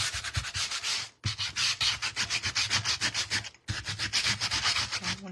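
Sandpaper rubs briskly back and forth across a canvas sign in quick, even strokes, close and steady, broken into three runs by two short pauses.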